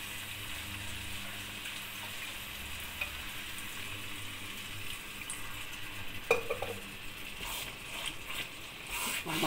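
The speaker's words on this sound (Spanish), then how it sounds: "Vamos a mezclarle y vamos viendo si le falta agua o no" A pot of chicken tinga sauce being stirred after broth is added, with a steady soft simmering sizzle and faint scraping, close and continuous, a sharper clink partway through.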